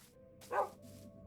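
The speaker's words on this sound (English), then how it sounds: "these are actually Nathan's dogs" A dog in the video game Minecraft gives a single short bark near the middle, moderately close, over a faint low background hum with quiet gaps on either side.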